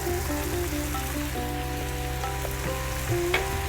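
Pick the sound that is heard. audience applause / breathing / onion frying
onion frying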